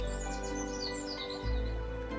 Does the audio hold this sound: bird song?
yes